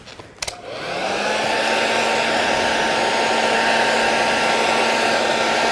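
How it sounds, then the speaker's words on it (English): Hairdryer blasting over wet watercolour paint, switched on after a brief click and then running as a loud, steady, close-up whoosh with no one speaking. "So I'm going to blast it with a hairdryer."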